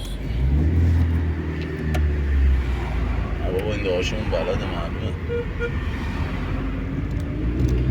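A car engine hums steadily while a friend takes the wheel, a low rumble running beneath constant conversation inside the vehicle throughout.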